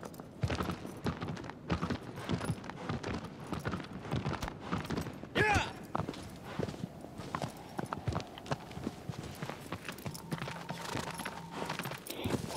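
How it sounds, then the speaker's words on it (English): Rhythmic clip-clop of a horse's hooves in the video game Shadow of the Colossus, steady repeated steps up close with occasional mechanical game sounds and brief speech mixed in. "Come on, horse, move."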